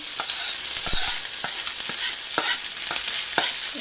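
Corn tipped into a simmering pan for a butterbean, corn, basil and tomato salad, giving a steady sizzle and stirring noise with a few soft knocks, close and continuous, no talking.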